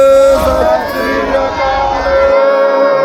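Congregation at Gurdwara Salwana Sahib, Mallomazara, shouting the Sikh jaikara response during a Parkash Purab gathering, a loud sustained massed chorus of voices filling the space for about two seconds before cutting off.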